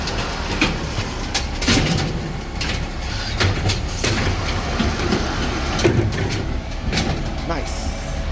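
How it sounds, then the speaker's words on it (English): The packer of a brand-new garbage truck compacts a load of green waste, a steady loud mechanical rumble with scattered clanks and knocks running throughout. "Packer is working."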